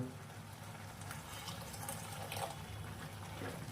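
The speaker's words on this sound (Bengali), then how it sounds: "আর দেব কিছুটা গরম জল।" Hot water pours steadily into a pot of chana dal with coconut, a soft continuous splashing trickle heard close and fairly quiet.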